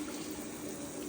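Water runs steadily from a tap into a warm bath on a farm, a continuous close rushing that fills the whole moment with no voices.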